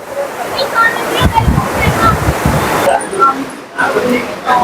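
Rushing Kali river beneath the India-Nepal bridge, a continuous loud broadband roar of fast water heard from close by, with a few faint sharp sounds above it.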